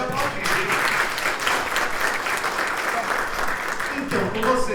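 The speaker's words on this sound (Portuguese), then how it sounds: "Pode aplaudir, gente." Steady applause from an audience at an education summer school event on AI, a dense crowd clapping for several seconds with a voice faintly underneath near the end.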